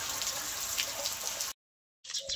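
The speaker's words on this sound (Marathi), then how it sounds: "आधी पाणी भरून घेते" Water running from a tap to fill containers at a rural home, a steady close splashing stream that cuts off briefly and then resumes.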